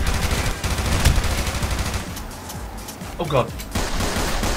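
Rapid repeated gunshots from the video game Tactical Intervention rattle in loud bursts, with a voice exclaiming briefly over the firing.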